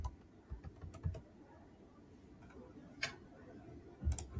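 Keys on a computer keyboard tapped while writing TypeScript code, sparse irregular clicks in small bursts at close range, fairly quiet with a low room hush between strokes.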